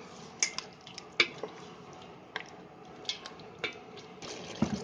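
Lemon-marinated chicken stirred into masala in a pan over high heat for Delhi-style chicken changezi: soft wet squishing with irregular clinks and taps of a spoon on the pan, close and fairly quiet, no talking.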